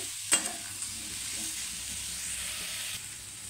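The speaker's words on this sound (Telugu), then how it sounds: "ముల్లంగి ముక్క మంచిగా వేగాలి" Radish pieces frying in a pan, a soft continuous sizzle opened by a sharp stirring scrape, with faint stirring movement under the steady hiss.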